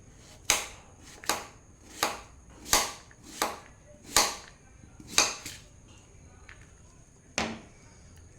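A knife slices thinly through bottle gourd on a board for kheer, about nine crisp, evenly spaced chops close by, each a sharp knock with a short tail.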